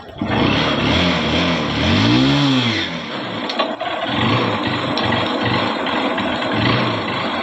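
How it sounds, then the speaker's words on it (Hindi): A motorcycle engine starts and revs during heavy monsoon rain in Ahmedabad, with a rising and falling rev in the first seconds before it settles into a steady rumble under constant loud rain noise. "फर्स्ट में चालू हो गई हमारी बाइक, ताकि ऐसे बारिश में फर्स्ट में चालू नहीं होती।"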